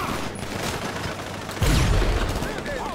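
Rail gun fire in GTA 5 Online during a mission: a broad, loud blast hits at about 1.6 seconds and sustains for a moment, with a sweeping whine and busy game effects around it.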